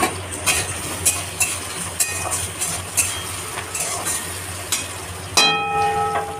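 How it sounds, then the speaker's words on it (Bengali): Onion fries with a bay leaf in a pan for aloo dum with peas, a low sizzle beneath repeated metallic clinks and scrapes of a spoon stirring, with a louder clatter near the end. "তারপরেই দিয়ে দেব তেজপাতা, দিয়ে এবার পেঁয়াজটাকে একটু ভালো করে ভেজে নেব।"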